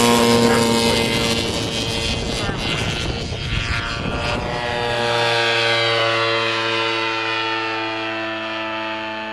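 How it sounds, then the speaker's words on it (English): An unmanned aerial vehicle plane flies past with a steady droning engine tone that stays loud throughout, swelling and shifting in pitch as it passes, with no clear talk over it. "going up to the planes now to test the UAV"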